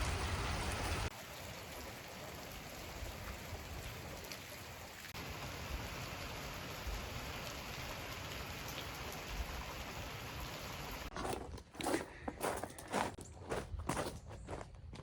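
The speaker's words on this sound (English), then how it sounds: "We got a ton of rain this morning" Steady rain hisses and patters outside, even and continuous, with a few closer irregular drips and taps near the end.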